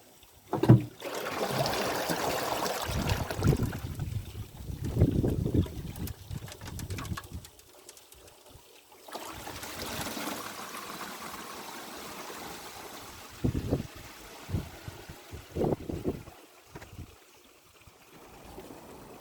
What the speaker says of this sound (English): Okay, time to open up the main bottom drain and let this thing get filled again.